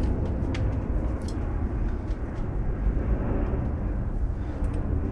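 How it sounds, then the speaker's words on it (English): Airplane passing overhead as a steady, broad low rumble that fills the whole stretch without fading, with faint outdoor ticks and clicks on top and no talking. "Plane's going over now."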